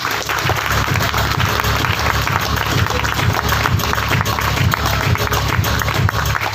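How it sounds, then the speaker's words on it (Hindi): Loud, dense applause from a seminar audience fills the clip steadily from start to finish, with many hands clapping at once and no speech over it. "एक बार जोरदार तालियां बजाओ अपने लिए।"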